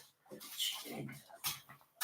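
A puppy whimpers in a few short, high whines amid household noise, with a brief louder yelp near the end.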